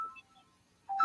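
A phone rings with short electronic tones, one burst at the start and a louder one at the end, separated by near silence in a quiet room.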